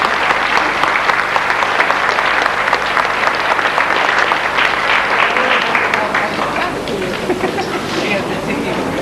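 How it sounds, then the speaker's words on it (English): A large audience at a Grade 7 graduation ceremony gives a big round of applause, dense and loud throughout, thinning slightly toward the end with some crowd murmur underneath. "give them a big round of applause."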